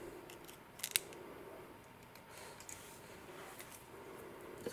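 Wire-wrapped cabochon jewelry wire ends are snipped, with two crisp, isolated cuts, one early and one at the very end, over near silence.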